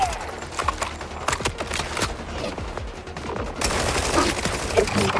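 Borderlands gameplay carries bursts of rapid gunfire, a dense crackle of repeated shots that runs through the passage and thickens into a louder barrage toward the end.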